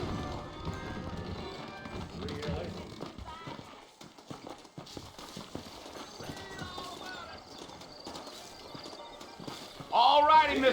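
Saddled horses shift and clop in the Western video game Red Dead Redemption, with scattered hoof clatter and a brief whinny under ongoing character dialogue, ending in a louder burst of activity.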